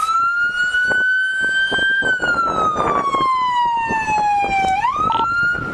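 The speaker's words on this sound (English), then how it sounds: "All right, turn your siren off." A police car siren wails close and loud, one long sweeping tone that slowly falls and then jumps back up, over road noise with no talk.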